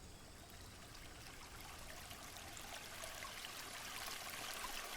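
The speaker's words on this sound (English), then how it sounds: "Streams flowed through untouched valleys." A stream runs through a valley with a steady, soft rushing and trickling of water that swells slightly louder toward the end, with no voices.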